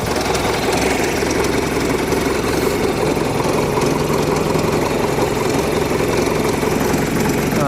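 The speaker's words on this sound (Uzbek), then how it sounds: "Turbo kompressorlarni ham ovozini eshityapsizlar. Motorlari ham juda ham tekis ishlayapti." A turbocharged tractor engine runs steadily nearby, its dense mechanical drone and rapid knocking pulse holding constant and loud throughout, with a faint whine above it and no talk.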